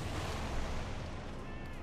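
Air support rakes the ground with 20mm cannon fire in Company of Heroes 2, a dense, continuous roar of rapid impacts and blasts at steady high volume across the whole stretch.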